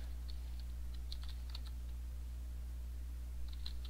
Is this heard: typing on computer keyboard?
yes